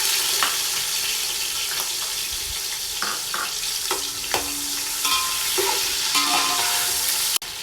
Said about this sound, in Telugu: ఆనియన్ మధ్యలో మిక్స్ చేసుకుంటూ గోల్డ్ కలర్ వచ్చేంత వరకు ఫ్రై చేసుకోవాలండి